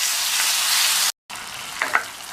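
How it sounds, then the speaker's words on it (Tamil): Tomatoes with salt sauté in a hot pan for sambar, giving a steady close sizzle that breaks briefly, then resumes with a couple of stirring clinks; no voices. "அதை சேர்த்துட்டு சாம்பாருக்கு தேவையான அளவு உப்பையும் சேர்த்து வதக்கிக்கலாம்."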